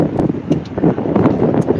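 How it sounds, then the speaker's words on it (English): A short gust of wind buffets the microphone outdoors in a rough, fluttering rumble, loud and close for under two seconds with no talk. "Ooh, we're windy, another wind burst."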